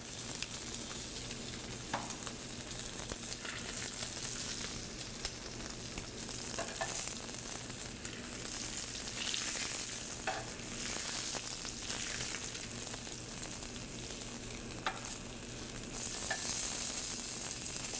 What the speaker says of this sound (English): keeping it at 135 degrees medium rare, just searing the outside